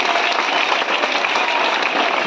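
A crowd of school students applauds a vote result at a school election, dense continuous clapping held at an even, loud level throughout with no pauses.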